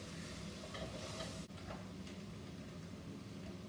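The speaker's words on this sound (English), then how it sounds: "And then we're going to give that a stir." Ground cumin and coriander being stirred in a hot pan for chicken curry, a steady broadband sizzle with soft scraping strokes running throughout, close and continuous with no talking.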